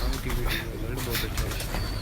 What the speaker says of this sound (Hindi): ये 2 कबूतर दिखाते हैं